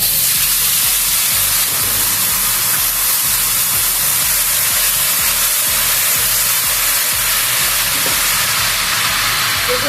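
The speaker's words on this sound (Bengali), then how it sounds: "এখন আমি এই তেলের মধ্যে দেব তেঁতুল গুলিয়ে রেখেছিলাম সেইটা।" Tamarind water poured into hot oil in a pan for a fish-head curry, producing a loud, continuous hissing sizzle that fills the whole stretch without any talking.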